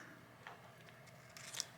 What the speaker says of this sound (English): I don't know what I'm using these great big scissors for